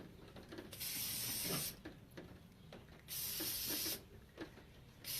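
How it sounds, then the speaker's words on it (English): Hairspray hisses from an aerosol can onto hair in two bursts of about a second each, with soft handling noises between them and a short final puff. "I'm gonna go ahead and I'm gonna add some hairspray."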